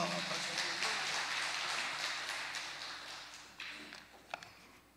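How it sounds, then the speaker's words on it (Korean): A church congregation applauds together after a shared amen, a dense wash of clapping that fills the space and then thins out, with a few louder claps standing out near the end. "아멘. 박수합시다."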